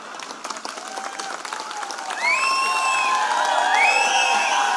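Crowd applause fills a political rally in Mumbai, steady and broad, with cheers and whistles rising over it and swelling louder partway through; no speech stands out.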